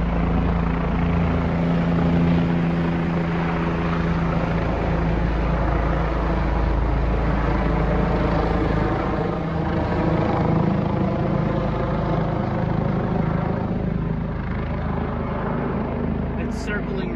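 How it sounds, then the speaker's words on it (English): Helicopter circling overhead during a rattlesnake bite rescue on the trail between Blue Mountain Shelter and Dicks Creek Gap, a steady loud rotor and engine drone throughout, with people talking underneath. "There's a helicopter right there."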